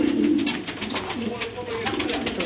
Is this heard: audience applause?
no